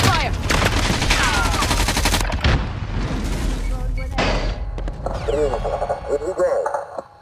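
Sustained automatic gunfire and booming blasts rattle through a Call of Duty Warzone payload match, dense and loud for most of the stretch before thinning toward the end, with battle chatter mixed in.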